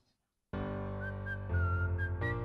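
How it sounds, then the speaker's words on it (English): After a brief silence, a steady tone plays with a clear whistled melody running over it, rising and falling in pitch. "What is with all the whistling?"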